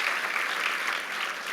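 Steady applause from a gala audience at the Algemeiner J100 dinner fills the moment, a dense even patter of many hands clapping at moderate volume with no voices over it.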